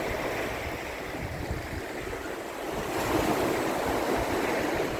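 Sea waves wash continuously onto the beach at Sandsend on the coast, a steady, fairly faint roar of surf with some wind, swelling slightly halfway through, with no voices.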